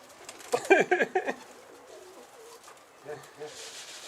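A pigeon gives a short burst of throaty cooing early on, close and fairly loud, followed by softer coos, with people talking around it.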